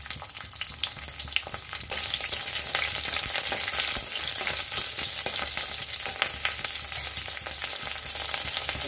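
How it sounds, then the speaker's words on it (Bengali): Garlic, green chillies and five-spice seeds frying in oil, a loud dense sizzle that swells after a moment and then holds steady and close throughout. "রসুনগুলো বাদামি করে একটু ভেজে নেব"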